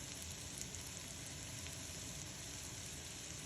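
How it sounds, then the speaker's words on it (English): Onions sauté in a pan for salsa guisada, giving a continuous faint crackling hiss that stays even and unbroken for the whole stretch. "So we'll put the rest in and get those sauteing and get them translucent"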